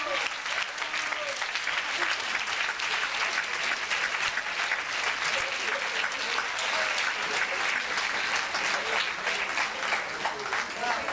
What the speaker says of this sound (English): A big clap to everybody.